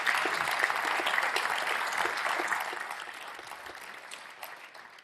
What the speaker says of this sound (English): And can we give the guys a round of applause?